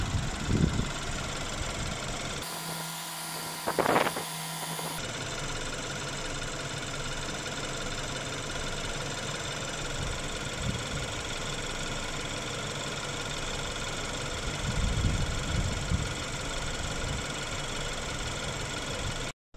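A warmed-up BMW 420i engine idles steadily with a low, continuous rumble; a brief louder burst of noise interrupts near the start.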